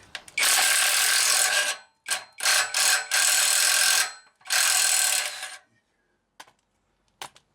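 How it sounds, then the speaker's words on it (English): A wrench works a stuck 15 mm bolt during turbo removal on a Jeep WJ 2.7 CRD. Several loud, harsh mechanical bursts of a second or more come in quick succession, followed by a few faint, brief clicks in a quiet gap. "I just want to undo this little bolt"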